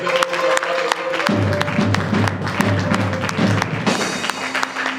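Church congregation clapping steadily through a sustained, dense burst of applause, with voices and musical tones running underneath.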